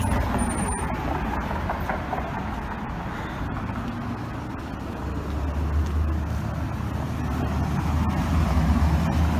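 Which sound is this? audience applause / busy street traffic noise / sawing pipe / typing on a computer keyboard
busy street traffic noise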